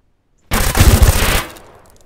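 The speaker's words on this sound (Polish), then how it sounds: "Kto to strzela na zewnątrz?" Gunfire outside in the game Deadside comes as one loud, close burst of rapid automatic shots lasting about a second, then a short fading echo.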